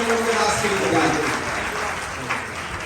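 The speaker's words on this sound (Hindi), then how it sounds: "आपका से जोरदार ताली प्रभु के दास के लिए बजाएं" Applause from a church audience for a preacher at a worship service, a dense, steady wash of clapping that fills the whole stretch at moderate loudness and tapers slightly toward the end.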